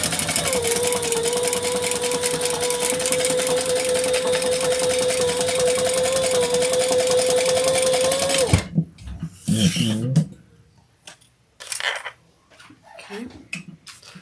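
A sewing machine top stitching fabric runs in a steady, loud mechanical whir for about eight seconds, then stops, leaving a few short clunks and handling noises.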